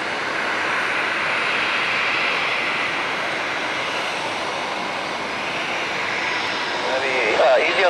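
An Atlas Air Boeing 747-446 at San Jose International Airport roars with a broad, steady jet-engine rush during takeoff, heard from a distance, with a brief voice near the end.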